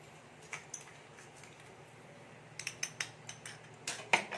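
A spoon works sugar into a milk powder dough in a pan, producing faint scattered clinks and light scrapes against the metal that grow busier toward the end, with a quiet room behind.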